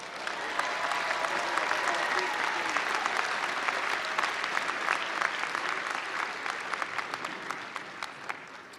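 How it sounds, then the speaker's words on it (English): Sustained applause from a large audience at the Eastern Illinois University 2022 fall commencement ceremony, a dense steady wash of clapping hands that holds evenly for the full stretch, with no voices over it. "Let's have a big round of applause for these graduates."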